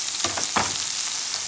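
Garlic, onion and green onion frying in a little oil in a pan: a loud, bright sizzle throughout, with two short bursts of stirring or food hitting the hot oil near the start.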